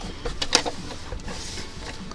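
Sewing machine stitching near a pin on a McCall's 2447 vest in brown thread, a close, steady mechanical whir with a few sharper clicks early on, running alone without talk.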